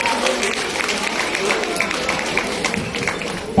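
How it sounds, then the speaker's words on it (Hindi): An audience at a poetry recital (kavi sammelan) breaking into continuous applause, a dense crowd clapping that holds steady for the whole stretch, with voices mixed in. "अगर हर प्रस्तुति पर जोरदार तालियां आएंगी"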